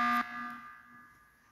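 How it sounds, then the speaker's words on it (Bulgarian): Sabotage alarm in the Among Us video game: a short, loud electronic buzzer blast that cuts off abruptly, followed by a fading tonal ring. "за да свършим тази тъпа аларма"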